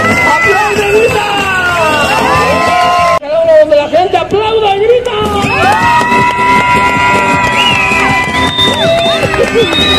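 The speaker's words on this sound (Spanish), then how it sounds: "¡Donde la gente aplaude y grita!" Street crowd in Oaxaca's historic centre around a clown show, cheering, shouting and whooping loudly and continuously, with a brief dip before the roar resumes.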